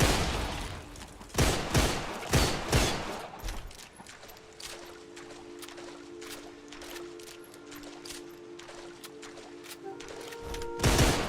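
A loud burst of rapid gunshots in the Deadfall Adventures action game, several cracks fired in quick succession, then quieter scattered pops with a sustained tone in the background and another shot at the end.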